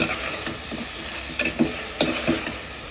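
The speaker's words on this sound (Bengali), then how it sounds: "চিংড়ি মাছ, হলুদ, আদা, রসুন, কাঁঠালের বিচি দিয়ে একটু কষায় নিলাম" Shrimp with turmeric, ginger, garlic and jackfruit seeds sautéing in a pan, a steady sizzle with a few spatula scrapes and stirring knocks, close and without talk.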